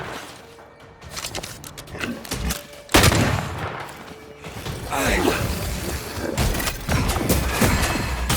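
Gunfire from an undead corpse enemy in the video game Banishers: Ghosts of New Eden, with sharp loud shots and mechanical clanks scattered among rumbling combat noise, one especially heavy blast standing out midway.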